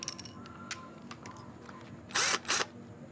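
A hole is drilled in a PVC pipe with a power drill, giving two short loud bursts of whirring close by after quiet handling clicks.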